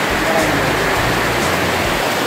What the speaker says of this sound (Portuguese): Cachoeira do Jabuti.